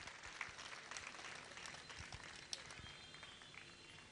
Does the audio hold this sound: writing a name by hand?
no